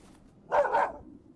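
Two quick dog barks close together from the indie game Urayama, moderately loud, with a quiet background and no talking.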